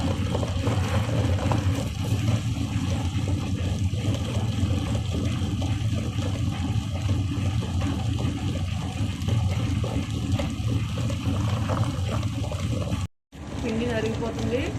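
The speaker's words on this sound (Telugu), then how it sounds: "ముందుగా నానబెట్టుకున్న బియ్యం కూడా వేసి మనం దోసల పిండిలా నలగనివ్వాలి." A wet grinder churning soaked rice into dosa batter, a steady low motor rumble with sloshing, continuous throughout, cut off briefly near the end.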